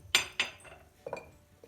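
Metal spoon clinking against a cezve while coffee is scooped in for Turkish coffee: two sharp close taps, then a pause and a softer pair of scraping clinks, with no talk.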